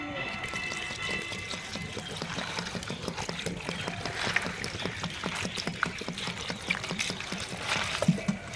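Brahmi greens being rinsed by hand in a bowl of water, with steady splashing, trickling and sloshing running close and continuous throughout.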